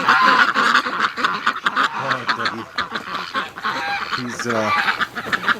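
Geese and ducks, including aggressive ganders, honk and quack loudly at close range in a wintering farmyard, with repeated overlapping calls and brief speech mixed in.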